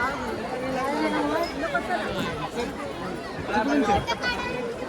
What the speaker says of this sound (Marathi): गर्दी अफाट हा आणि भयंकर हा.